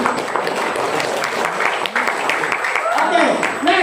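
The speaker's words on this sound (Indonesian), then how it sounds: "Tepuk tangannya nanggung-nanggung." Lukewarm applause from a marketing seminar crowd, a steady wash of light clapping with voices murmuring and talking over it throughout.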